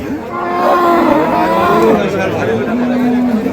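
Bulls and other cattle moo repeatedly at the Kaharol cattle market in Dinajpur, with long drawn-out calls overlapping close by under steady crowd chatter and people talking.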